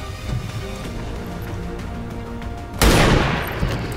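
Gunfire in the video game XCOM 2: a low rumbling battle backdrop breaks into a sudden loud, sharp burst of shots that rings out and fades, with no talking over it.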